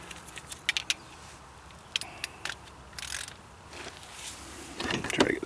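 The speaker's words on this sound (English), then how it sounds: "Try to get the torque wrench in here." A torque wrench clicks and ratchets on a brake bolt of a 1987 Honda Accord DX during a rotor and brake pad job, with sharp scattered clicks and short metallic rattles up close.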